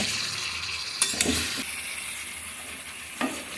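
Masala, chicken and potatoes being stirred and sautéed in a pan for biryani, a continuous close sizzle and hiss with a few scraping stirs of a utensil, no talking.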